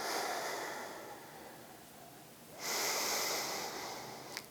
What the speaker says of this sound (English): Nice big deep breath in, big deep breath out.